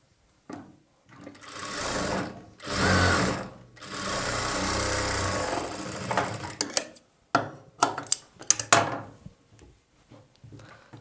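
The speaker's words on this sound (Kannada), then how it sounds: "ಈ ಕಚ್ಚಾ ಮೇಲೆ ಒಂದು ಸ್ಟಿಚ್ನ ಮಾಡ್ಕೊಳ್ಳಿ." A sewing machine stitches plain blouse fabric in a few close, loud mechanical runs of rapid whirring, with clicks and handling noises between bursts and no talk.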